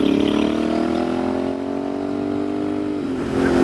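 A Royal Enfield Bear 650 twin fitted with a Dustland shotgun exhaust pipe rumbles past close by. Its engine note holds steady, then dips slightly as it eases off, and rises again at the end.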